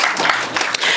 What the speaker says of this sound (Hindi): जोरदार तालियां मैडम एकता के लिए।